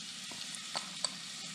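Chopped onion hitting hot oil in a pot for a chicken and vegetable stew, giving a brief, steady, moderate sizzle with a couple of light utensil clicks.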